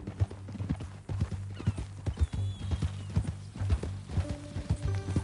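A horse's hooves clip-clop in a quick, regular rhythm, close and clear, with a brief whinny-like sound mixed in under the steps.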